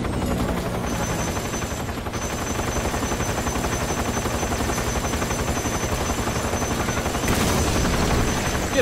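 Helicopter rotor drone in the video game Metal Gear Solid 3, loud and continuous, overlaid with rapid bursts of machine-gun fire throughout.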